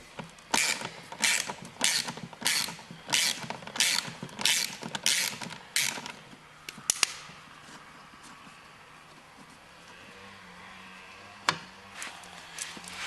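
A 3/8 ratchet turning a 10 mm socket on a John Deere lawn tractor, with a quick run of about ten evenly spaced clicking strokes, close and crisp. It is followed by a few isolated clicks and quiet handling.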